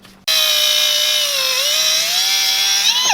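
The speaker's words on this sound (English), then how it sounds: "the whiz wheel goes right through big wires" A whiz-wheel cutoff tool slices through thick battery cables, giving a loud, steady high-pitched whine with rich overtones that dips slightly in pitch under load midway, then rises again near the end. It starts abruptly after a brief quiet moment and runs continuously.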